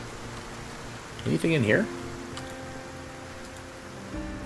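Steady rain hisses across the whole scene in the zombie survival game Project Zomboid, a soft constant wash under a person talking briefly.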